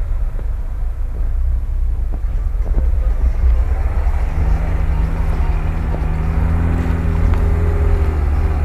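Off-road vehicles such as a Niva, Range Rover and Skoda Octavia driving past outdoors, a loud continuous engine rumble with a rising drone in the second half, close by and without clear speech.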